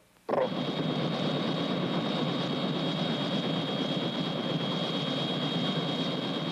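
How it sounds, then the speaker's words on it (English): A helicopter's loud engine starts abruptly and holds a steady, droning roar with a high whine, running close by. "isn't that your helicopter over there?"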